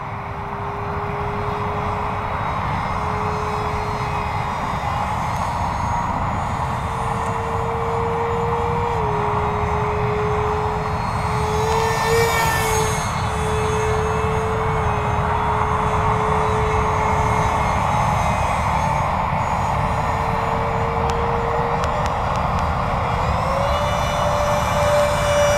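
A Nitroplanes RC F-18 jet model airplane flies at under half throttle in a crosswind, and its steady, loud engine whine stays continuous throughout while the pitch shifts slightly as it maneuvers.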